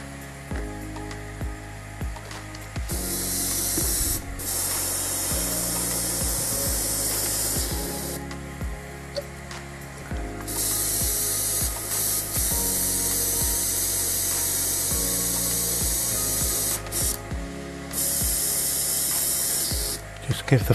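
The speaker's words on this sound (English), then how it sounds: "So now I should just give the airbrush a blowout" Badger Sotar 2020 airbrush being blown out with cleaner, giving long loud hissing spray bursts separated by brief pauses, with small mechanical clicks and handling noises between.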